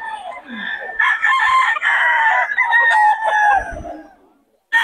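A gamefowl rooster at a poultry market in Bocaue crows once, loud and close, in a long drawn-out call that trails off, followed by a brief pause.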